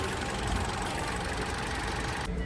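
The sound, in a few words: car engine idling with thin squeal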